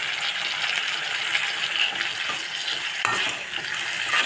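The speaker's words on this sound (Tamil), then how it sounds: "இந்த சட்னி ஓரளவுக்கு நல்லா வதங்கியாச்சு" Chutney ingredients sautéing in a pan, a steady close sizzle and crackle of frying that holds evenly throughout, with faint stirring scrapes now and then.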